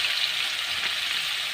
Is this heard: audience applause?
no